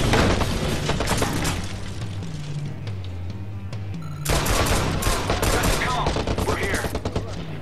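Rapid, loud bursts of gunfire during a shootout in the video game Watch Dogs, dense overlapping shots that pause briefly midway and then resume in a heavy volley.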